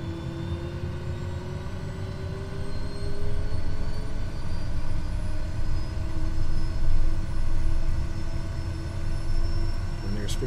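A Kodiak 100 single-engine turboprop spools up during startup in Microsoft Flight Simulator 2020, a steady rising whine over a broad engine rumble that grows louder after a few seconds and holds, with faint talk underneath.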